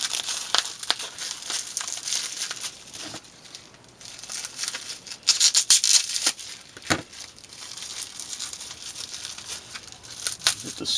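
A mailed package being unwrapped by hand, its packing material crinkling and rustling in irregular bursts with a few sharper tearing crackles, close and fairly loud throughout.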